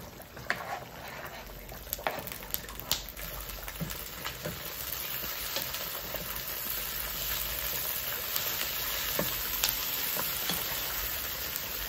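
Chiles and tomato frying in a pan, with a steady sizzle that builds slightly over time and occasional clinks of a utensil stirring, close and moderately loud, while making Michoacán-style carnitas.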